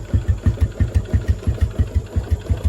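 A Yamaha Jupiter MX motorcycle engine warms up at idle close by through a Satria FU exhaust, with a deep, loud, lumpy exhaust note pulsing in a fast, steady rhythm.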